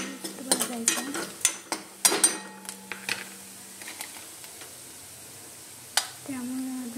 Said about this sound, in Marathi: भाजून घ्यायचं.